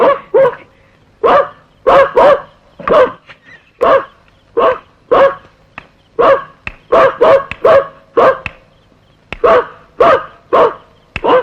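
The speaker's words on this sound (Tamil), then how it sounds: "அதான் மணி கொலைச்சிருக்கு." A dog barks repeatedly in sharp bursts, some single and some in quick doubles, close and loud with short pauses between.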